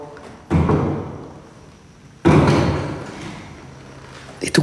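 A chair moving inside a reputedly haunted house, heard as two heavy thuds followed by dragging scrapes, close and loud, with a few small knocks at the end and no talking.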